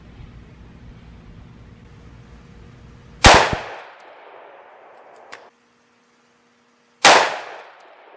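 A 10mm pistol fires twice into a clay block, each shot a sharp, loud crack with a short decaying tail, spaced about four seconds apart, with a faint click between them over a low background hum.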